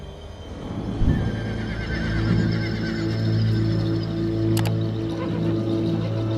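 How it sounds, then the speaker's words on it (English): A horse whinnies loudly and close by, a long, wavering neigh over a steady low background, with a faint click of hooves partway through. "Behold, a pale horse."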